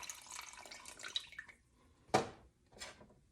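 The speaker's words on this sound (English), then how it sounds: "place all of my lemon juice" Lemon juice poured into a mixing pot for a lemon meringue pie filling, a close liquid splash and trickle with two short sharper splashes near the end, no talking.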